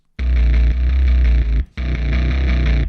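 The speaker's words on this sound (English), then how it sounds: "I was trying to make it sound like a distorted bass guitar" A heavy, gritty distorted Serum synth bass patch, made to resemble a distorted bass guitar, plays a loud sustained note, stops briefly, then comes back in, with a buzzing, saturated tone.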